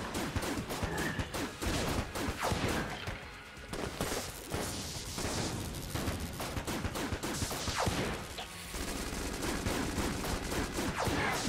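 Hegemony rifle firing in Enter the Gungeon, rapid dense bursts of gunfire rattling almost continuously with short pauses, loud and close, mixed with crashes and game effects.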